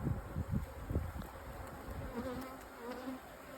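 Honey bees buzz around an open hive during a frame inspection, a steady droning swarm close by with shifting individual wingbeat tones rising and falling throughout.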